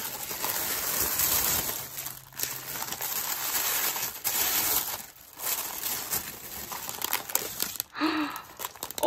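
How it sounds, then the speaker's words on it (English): Gift packaging crinkles and crackles close up as a surprise package is opened, with continuous rustling that pauses briefly now and then, and a soft voice near the end. "I know the crinkling drives some people mad"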